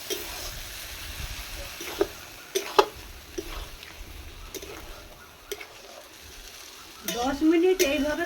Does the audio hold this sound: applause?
no